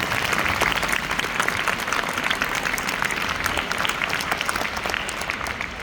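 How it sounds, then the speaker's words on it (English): Steady, dense applause from a school audience for teachers and staff, continuous clapping throughout at a constant level with a faint crowd murmur beneath. "So can we give a round of applause for all of them?"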